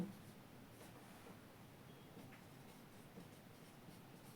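Steady pen or marker scratching while a definition is written out in a physics class on reflection of light at plane surfaces, a continuous soft grainy rasp close by with no voices.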